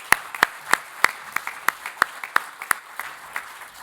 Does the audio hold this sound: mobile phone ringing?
no